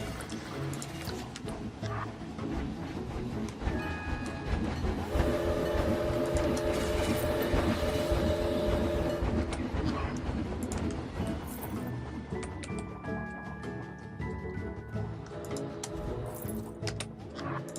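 A train rolls steadily along in the Planet Coaster video game, with continuous rumbling and clickety-clack and a sustained tonal horn or bell sound partway through.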